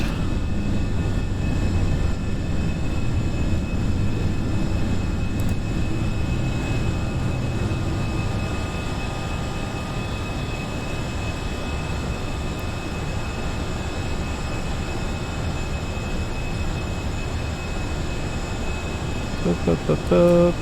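Airliner jet engines from an FSLabs A320 flight simulator roar steadily at high power during the climb after takeoff, a continuous broadband rumble with no talk over it.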